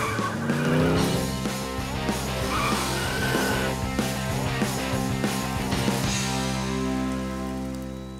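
Cartoon race cars speed off with engines revving and tires skidding and squealing, a busy, loud rush of motor and screech sounds with a bright musical tone throughout.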